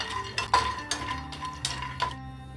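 Cashews and almonds dry-roasting in a pan with no ghee, heard as clinks and scrapes of nuts and a utensil against the metal, several distinct sharp knocks over a steady close background.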